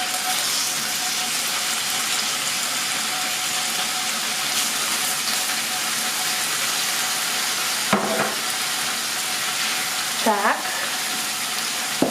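Chicken tenderloin sizzles in a frying pan, a loud continuous crackling hiss with a couple of brief scraping, squeaky pan noises near the end.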